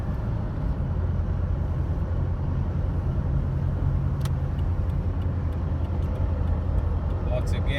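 A Jeep Cherokee Sport XJ with 34K miles on a test drive, its engine and road noise a constant low rumble inside the cabin, steady from start to finish.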